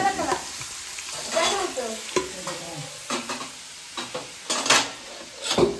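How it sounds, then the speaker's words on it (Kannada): Biryani mixed with oil and masala is stirred in a hot pan, with steady sizzling under repeated scraping strokes of a spoon against the vessel, close and fairly loud. "ಅದು ಎಣ್ಣೆ ಅದು ಬಿರಿಯಾನಿ ಎಲ್ಲ ಮಿಕ್ಸ್ ಮಾಡಿಬಿಟ್ಟಿದ್ದೀನಿ"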